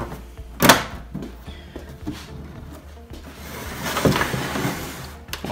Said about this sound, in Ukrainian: Закриваємо назад кришечку так само.